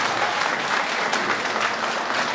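Steady, dense applause from a wedding crowd for the newlyweds, a close and continuous wash of clapping with no pauses.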